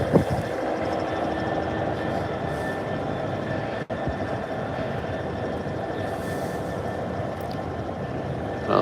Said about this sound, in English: from this engine, which you can hear loud and clearly